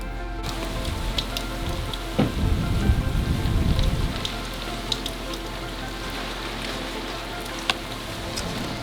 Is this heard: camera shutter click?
no